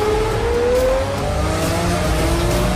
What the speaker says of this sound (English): Damon of DDE gave me the keys to his manual Lamborghini Murcielago to drive for the whole week